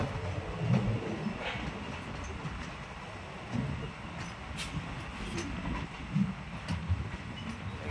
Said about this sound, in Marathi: आष्टी रेल्वे स्टेशन आलेलं आहे पहा मित्रांनो.